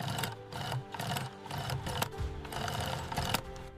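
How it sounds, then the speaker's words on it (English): Industrial stitching machine sewing the panels of a FIFA football at a factory, a rapid rattling mechanical chatter with rhythmic clicks, close and steady, and no one speaking. "The FIFA football begins its transformation through precision stitching."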